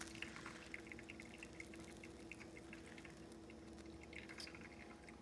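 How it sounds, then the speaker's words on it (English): Water pours into a coffee brewer that has a venting spout, making a quiet, continuous trickle with small drips and gurgles, close but faint, with no talking. "pouring here"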